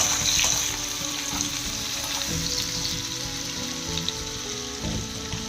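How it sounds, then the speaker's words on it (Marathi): Chopped onion and curry leaves fry in hot oil for a dill (shepu) bhaji, a steady close sizzle with soft scraping as they are mixed around the pan, no voices. "कट केलेला कांदा टाकून घ्यायचा आहे। कढीपत्ता आहे, थोडंसं मिक्स करून घ्यायचं।"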